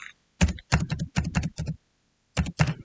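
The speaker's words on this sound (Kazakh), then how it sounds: "Осыған Alt Enter басасыздар және атымды жазамын." Keys on a computer keyboard struck in two quick clusters, crisp close clicks in short runs separated by a pause, in an otherwise quiet room with no voice.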